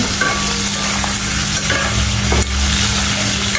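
Shrimp fry in a hot pan with onions and chilies, a steady, close sizzle with stirring scrapes running throughout, loud and unbroken with no talking.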